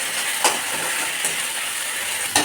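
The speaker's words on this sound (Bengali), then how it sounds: "এবার এর মধ্যে একটু আদা রসুনের পেস্টটা দিয়ে দেবো, দিয়ে ভালো করে নাড়িয়ে নেব।" Ginger-garlic paste fries in hot oil with pointed gourd while being stirred, giving a steady close sizzle broken by a few sharp scraping clicks of the spoon against the pan.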